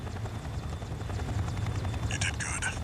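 Helicopter in the Armored Core VI video game, a steady low rotor thrum running throughout at moderate level, with a brief brighter burst of game sound near the end.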